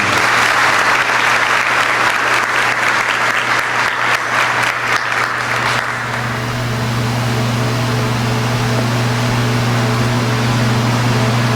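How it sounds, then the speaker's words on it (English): A high school band banquet audience claps loudly for the seniors, a full dense burst that stops abruptly partway, leaving a steady low electrical hum alone for the rest. "Have a nice round of applause for the seniors."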